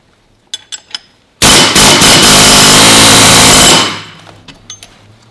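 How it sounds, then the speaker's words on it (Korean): An impact tool loosens a clamp bolt on the engine of a 2015 Hyundai Santa Fe DM with 190,000 km and a chain noise fault. One loud, sustained burst of hammering runs about two and a half seconds, framed by a few light clicks of handling before and after. "클램프 볼트 한번 풀어 보겠습니다."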